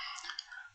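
A single computer mouse right-click made while running C++ code, sounding as a brief, close, faint click with no talk.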